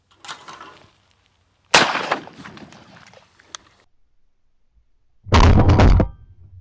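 A shotgun fires at skeet targets outdoors: one sharp, loud blast with a quick ringing decay, then a second heavy burst a few seconds later, with quieter rustling in between.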